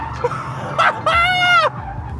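A supercar drifting with its tyres skidding, two loud squeals, the second one long and sustained, with excited voices talking over them.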